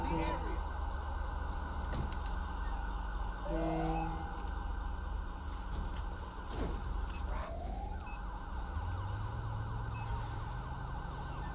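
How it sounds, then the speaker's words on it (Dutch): Police siren wailing continuously with rising sweeps in GTA 5 with the LSPDFR mod on a Belgian police patrol, loud and steady over vehicle engine noise. "voor de mensen die nu die sirene horen, dat is de sirene van deze"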